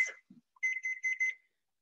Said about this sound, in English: That's my timer for the rice.